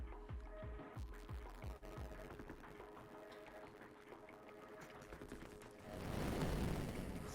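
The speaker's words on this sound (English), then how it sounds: "Fireworks almost knocking out Lise" Rapid crackling bursts of a fireworks attack in a competitive fighting-style video game match, a string of sharp pops early on under steady game music, then a louder broadband whoosh of blasts near the end.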